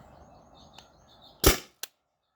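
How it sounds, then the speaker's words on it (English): A Byrna TCR launcher modded for HPA remote-line air fires a single sharp, loud pop up close, followed by a brief quieter click, then silence. "I think I have one more shot with this magazine"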